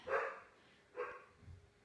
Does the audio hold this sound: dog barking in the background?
yes